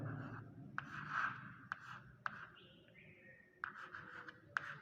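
Pen or pencil writes numbers by hand on paper, soft scratchy strokes with several sharp taps as digits are marked, close and quiet with a low background hum.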